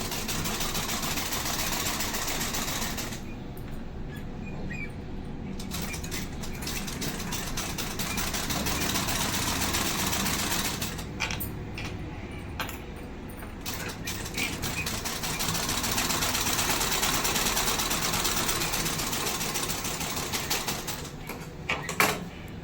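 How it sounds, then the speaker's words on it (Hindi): A sewing machine stitches a 44-inch blouse, running in a steady mechanical whir with brief pauses between bursts of stitching, close and continuous throughout, with no talking. "उसके बाद पलटने के बाद ये चीज़ें हम इसका सिलाई कर देंगे।"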